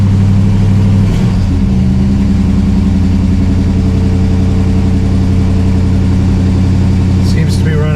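A Pontiac LeMans engine idles steadily up close with the choke on, a loud constant rumble with a brief rev near the start.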